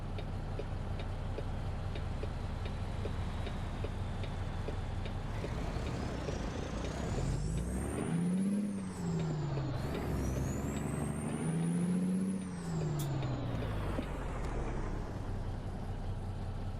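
A heavy truck in American Truck Simulator pulls in, its engine rumbling loudly and steadily, with the pitch rising and falling as it moves, air-brake hisses, and a faint ticking in the background.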